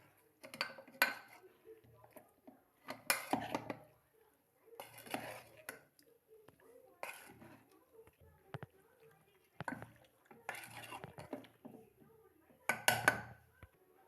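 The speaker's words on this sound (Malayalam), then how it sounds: "നന്നായി ഒന്ന് നമുക്ക് മിക്സ് ആക്കാം." Food being stirred in a pot, with intermittent metallic scrapes and clinks of a utensil against the pan in short bursts, close and moderately loud, with a voice speaking in between.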